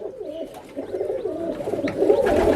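Pigeons, including young birds, coo steadily at close range, soft throaty calls overlapping and growing a little louder toward the end.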